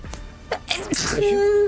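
A single sneeze, close and sharp, during a tabletop role-playing session, followed by a brief vocal tone.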